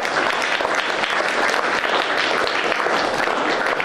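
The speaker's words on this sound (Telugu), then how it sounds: "సేవకు మీరందరూ ఒక బిగ్ క్లాప్స్ ఇవ్వండి" Dense, steady applause from an audience at an ashram charity event, loud and continuous throughout with no pauses.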